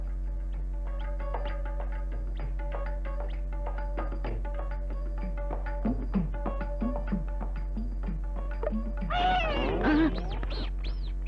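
A cat meows several times at moderate distance over a low steady hum and a faint tonal background, ending with a burst of louder, wavering cries.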